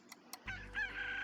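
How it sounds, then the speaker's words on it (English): Chickens in Slime Rancher give short clucks and then a sustained squawking crow-like call, close and fairly faint, with no talking over them. "Oh, there are so many chickens!"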